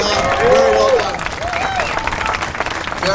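A crowd of fans applauds and cheers at an AMA Supersport race at Miller Motorsports Park, steady clapping close by with a voice talking over it on a loudspeaker.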